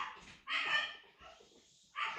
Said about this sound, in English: That's my dog. Can you hear him?